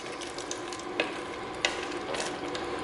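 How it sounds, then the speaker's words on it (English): Whole grain rotini pasta stirred around in a pot of simmering liquid, a soft steady sizzle and scrape with a few sharper clicks of the spoon against the pot, close and fairly quiet. "I'm going to stir that around really good."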